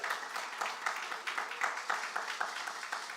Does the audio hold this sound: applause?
yes